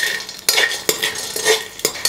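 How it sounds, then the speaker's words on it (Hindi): Dry fruits (cashews, almonds, raisins, dried coconut, pistachios, chironji) with makhana stirred in hot ghee in a pan, with sharp spoon-against-pan clinks about every half second over a soft frying hiss, close and alone. "घी में थोड़ी देर के लिए सबको अच्छे से फ्राई कर लेना है।"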